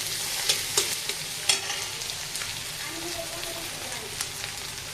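Egg fries in a noodle pan while being stirred, giving a soft continuous sizzle broken by sharp scraping clicks of the utensil, close but moderate in level, with no talking.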